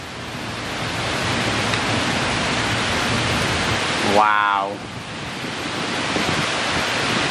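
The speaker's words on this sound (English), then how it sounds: "But the rain is actually so heavy." Heavy tropical rain pouring down in Florida, a loud, dense, continuous hiss that fills the whole clip, briefly interrupted midway by one short exclamation from a person.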